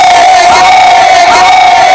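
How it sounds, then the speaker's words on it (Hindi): A crowd at a live comedy stage show in Mau roars and cheers, a loud, unbroken wall of voices with a steady sustained tone running through it for the whole two seconds. "तालियां तालियां बड़ा सुनिए तालियां"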